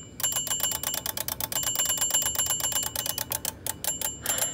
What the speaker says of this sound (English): its alarm function is the only thing that works